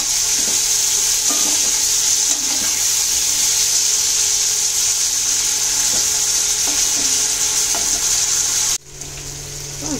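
Onions and chicken sizzle lightly in a pan, a steady loud frying hiss with occasional stirring scrapes, ending in a sudden drop to quieter sizzling.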